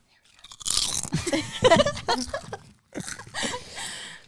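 Loud, close crunching of crunchy Utz potato chips being bitten and chewed, in two dense bursts of crackling with a short pause between them.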